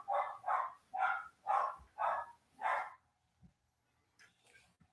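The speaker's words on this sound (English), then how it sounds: "I got a barking dog" A dog barks six times in a steady run, loud and close, then goes quiet with a few faint sounds after.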